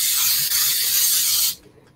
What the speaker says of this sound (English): I'm just going to lightly spray it with some pure and simple canola oil.